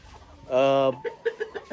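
Mardi crossbreed chickens, a cross between Mardi and RZ hens, give a sustained loud harmonic cluck followed by several shorter clucks, close by on a poultry farm.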